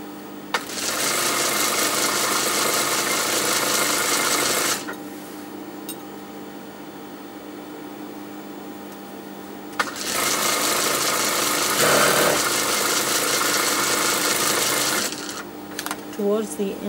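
A sewing machine stitches the turned hemline of a maxi dress lining in two sustained bursts, steady and close, separated by a short pause with faint handling noise.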